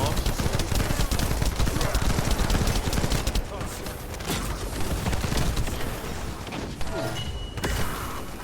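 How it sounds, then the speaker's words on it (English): Freyna's ultimate in The First Descendant drops a dense barrage of bombs, a loud, continuous crackle of rapid explosions and impacts, easing slightly midway, with a voice talking over it. "you can have it drop like 90 bombs"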